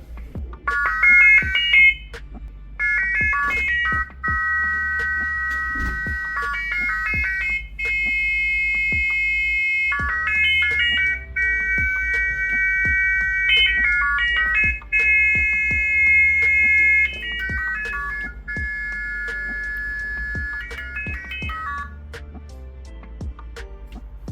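A MacBook's speaker plays the Apple Diagnostics audio test, a loud sequence of electronic tones and beeping chime patterns stepping between pitches in repeated phrases, clear and close with no talk.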